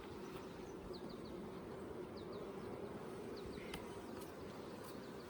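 Honeybees buzzing in an opened top bar hive, a faint, steady, continuous hum with a few soft high chirps in the background.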